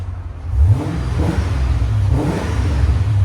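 A C4 Chevy Corvette 5.7L V8 with a Borla ProXS exhaust revving, a loud, deep engine note rising and swelling in repeated surges, close and unaccompanied by talk.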